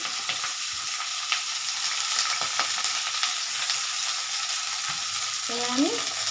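Potatoes, capsicum, beans and carrot stir-fry in a pan over lowered gas for veg chow mein, a loud continuous sizzle with clicks and scrapes of stirring and a brief squeak near the end.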